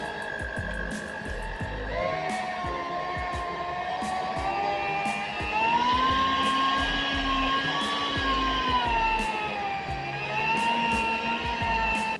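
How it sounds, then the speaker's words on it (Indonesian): An electric mixer kneads bomboloni doughnut dough, giving a steady, close motor whine whose pitch drifts up and down while the load changes, with no talking throughout. "Selanjutnya kita mixer lagi sampai benar-benar kalis"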